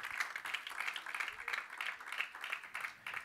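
A church congregation claps together in a steady, fairly quick rhythm, faint and somewhat distant in a large room.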